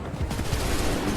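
Musket volley fire from soldiers in the video game Assassin's Creed 3, a dense, continuous burst of overlapping gunshots with a rumbling low end, loud and sustained throughout.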